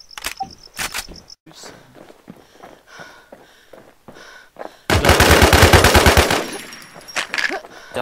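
Gunfire in the PVP video game Infestation, a few scattered shots and footsteps followed by a sustained rapid burst of automatic fire about midway, loud and close.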